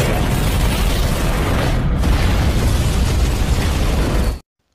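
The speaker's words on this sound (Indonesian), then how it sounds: "Tiba-tiba, pesawat alien itu meledak." A loud, sustained explosive roar of an alien spaceship exploding that rumbles on for several seconds, then cuts off abruptly into silence.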